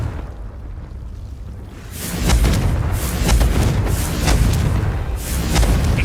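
Spell-blast explosions from the fire curse Confringo in the video game Hogwarts Legacy, a series of loud booming impacts that rumble and overlap after a quieter opening, with no talk.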